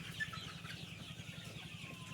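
Sonali super hybrid meat chickens about 47 days old cluck softly and steadily in a farm shed, a faint low rhythmic murmur from the flock with no voices.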